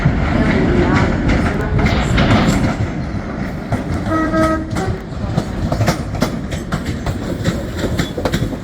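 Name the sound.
train horn at Edinburgh Waverley station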